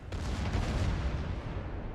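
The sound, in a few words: warship guns firing at close range, from video game World of Warships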